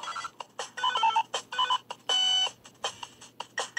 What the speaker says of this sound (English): I don't know why it sounds like a little phone.